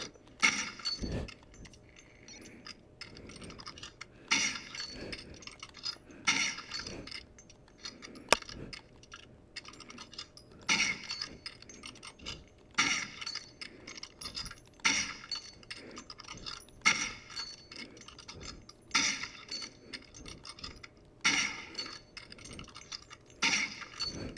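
Repeated metallic bolt-action clacks and clinks from a Barrett rifle being cycled in the VR shooter Pavlov VR, sharp mechanical hits recurring at a steady pace over a low hum, with no talking.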